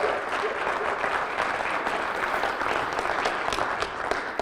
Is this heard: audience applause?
yes